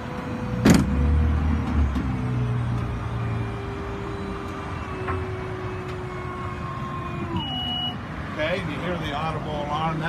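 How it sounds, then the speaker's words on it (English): A WaterCar amphibious vehicle lowers its wheels for land driving, giving a steady electric motor whine that shifts pitch near the end, over a low engine rumble close to the microphone. "Let's put the wheels down."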